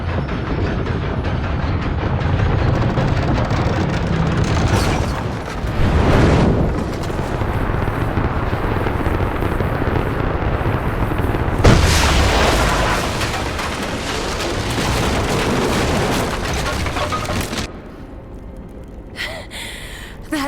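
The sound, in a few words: explosion from firing a weapon in video game Rise of the Tomb Raider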